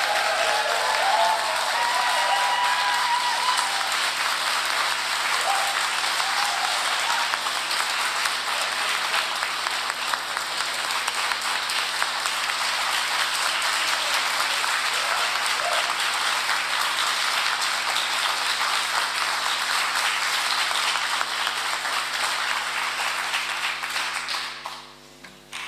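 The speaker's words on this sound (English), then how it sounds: "Let us give a round of applause to Amelia and Grant." Wedding guests break into sustained, steady applause for the newly married couple during the ceremony, a thick wash of clapping that holds evenly for over twenty seconds before cutting off abruptly.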